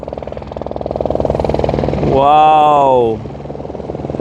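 A helicopter near Mount Cook, New Zealand, gives a steady, close rhythmic rotor chop that grows louder. A person exclaims briefly over it.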